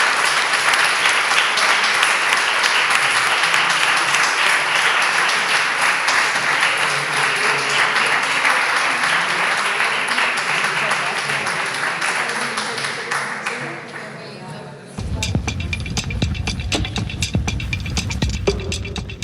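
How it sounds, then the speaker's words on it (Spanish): An audience gives a long, dense round of applause for four authors at a book podcast event, loud and steady, fading slightly before a final burst of crisper clapping near the end. "a dar un aplauso muy grande a estos 4 autores"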